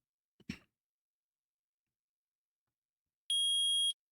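A metal detector in the Phoenix Wright: Ace Attorney courtroom game gives one sustained electronic beep of about half a second, loud and alone after a short thud and a long silence.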